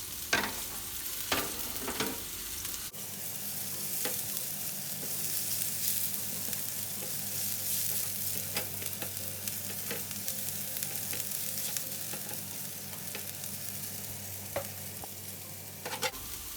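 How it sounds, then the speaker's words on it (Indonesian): Shallots stir-fry in hot oil in a pan, a constant close sizzle broken by scraping and clinks of the spatula stirring, with no talk. "Lalu ditumis bawang merahnya."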